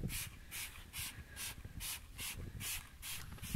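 Repeated short hissing spray bursts of insect repellent onto horse blankets in a barn, about eight of them in a steady rhythm, each a quick puff of mist, close by with faint background noise.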